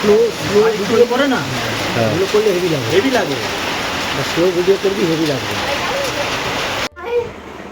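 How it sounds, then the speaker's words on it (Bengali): Heavy rain from a Kalbaishakhi nor'wester storm pours down as a loud, continuous roar. A person talks over it throughout, and the rain cuts out abruptly near the end. "প্রচণ্ড ঝড় বৃষ্টি কালবৈশাখী"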